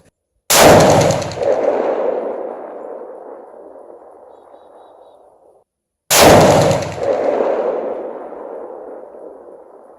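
Two loud Remington 783 rifle shots at distant targets, spaced several seconds apart, each a sharp blast followed by a long rolling echo that fades out.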